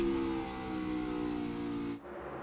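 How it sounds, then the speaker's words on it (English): A NASCAR Cup Series race car at Phoenix Raceway at the championship race, a loud, sustained engine drone on the front stretch with a brief dip and a drop-off near the end, as at a gear shift. "You just heard the shift, 5th gear here on the front stretch"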